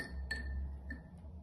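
Ice dropped into a glass of water during a kindergarten ice experiment, giving a sharp close glassy clink followed by a fainter second tick, over quiet room hum with no talk.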